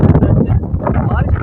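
Loud, continuous wind roar from a strong dust storm with light rain, buffeting the microphone throughout, with voices faintly audible under the gusts.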